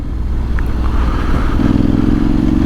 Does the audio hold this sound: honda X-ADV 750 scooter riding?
yes